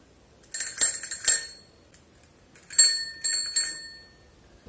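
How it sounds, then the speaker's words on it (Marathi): A small bell on a child's toy horse ride-on rings in two quick bursts of bright, metallic dings, close and clear with quiet pauses between. "तुझे बेल वाजवते ते"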